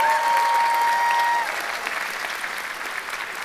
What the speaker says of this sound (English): Can we get another round of applause for the inaugural cello choir?